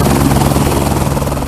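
A helicopter in flight on a wildlife survey over northern land, its rotor making a loud, steady thudding drone that fills the whole clip without letup.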